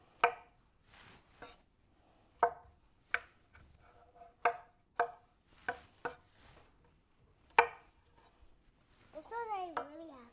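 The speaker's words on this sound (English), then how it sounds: "Let's cut it a little bit thinner." A knife chops onions on a cutting board in a kitchen, a string of sharp, spaced taps close to the listener, with a voice briefly heard toward the end.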